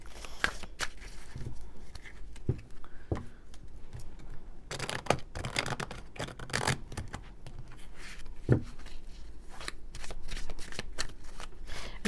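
Tarot cards shuffled by hand for a love reading, giving a steady riffle and slide of cards with brief denser bursts and light taps, close and clear, with no talking.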